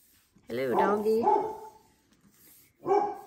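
A dog barks and yips nearby in a home studio, a loud burst of barks followed by a pause and another bark, with people talking around it.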